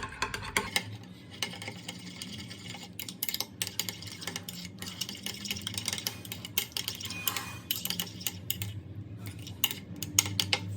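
A spoon mixes cream and oils in a bowl for a homemade hair mask, making quick, irregular clinks and scrapes that run quietly and continuously throughout.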